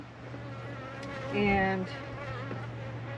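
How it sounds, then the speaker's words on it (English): Honeybees buzz around a stump hive in a steady mid-level drone, swelling louder for a moment as bees pass close, with a single brief spoken word. "We sure put a lot of bees in here"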